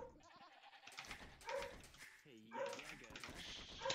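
A dog barks and yelps repeatedly in quick, overlapping bursts, fairly loud and close, mixed with higher whining yips.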